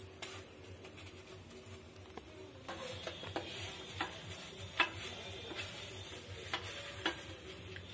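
Oil sizzles softly and steadily in a pan as a semolina paratha fries in mustard oil, with occasional light taps and scrapes from a spatula close up.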